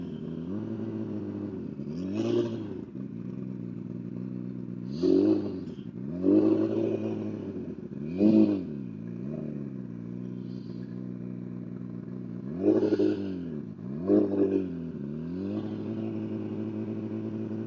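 A boosted Hayabusa superbike engine idles with a lumpy rumble, punctuated by several sharp throttle blips that rise and fall, heard up close.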